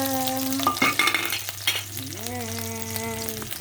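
Onion and ginger fry and get stirred in a pan, an even close sizzle with spoon clatters against the pan, under a steady musical tone in the background.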